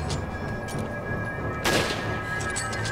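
A burst of gunfire rings out in Resident Evil 5, one loud crack standing out midway over a steady bed of game noise and ambience.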